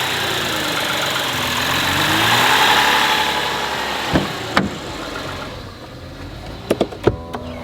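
A Lexus IS250 engine runs at a steady idle with a swelling mid-range drone that fades later, and sharp clicks and knocks cut in toward the end.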